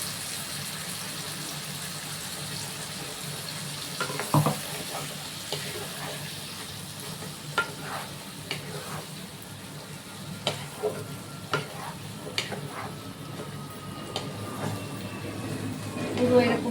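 A coconut, poppy seed, mustard and green chili paste is stirred in a pan, with scraping strokes at an irregular rhythm over a soft continuous sizzle.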